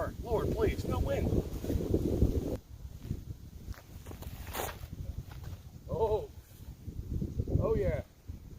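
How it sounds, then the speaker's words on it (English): Outdoor wind gusts buffet the microphone in rough, low rumbling waves under frequent talking, swelling and fading through the stretch. "Here comes the wind again, man"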